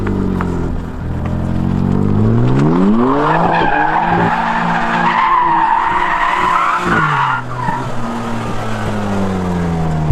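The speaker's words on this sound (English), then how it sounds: "that's the sickest drift ever" A new BMW M3 drifts with a loud, sustained tire squeal over its engine drone, the pitch sweeping up and down as the slide continues for several seconds, close and dominant.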